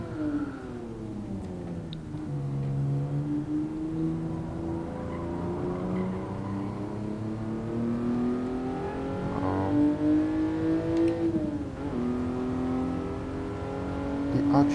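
Engine of a 1967 Toyota 2000GT in Gran Turismo Sport, lapping the Nürburgring in VR, rising and falling through gear changes with sustained revs and faint tire squeal, while someone talks over it.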